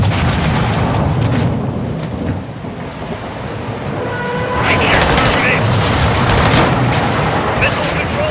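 Gunfire from a Call of Duty: Modern Warfare II firefight on the Dark Water mission, with dense bursts of shots and heavy rumble over waves and ocean noise, close and loud, with voices mixed in.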